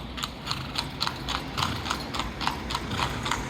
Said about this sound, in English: We wouldn't have seen that horse and buggy if we were zipping around in a car.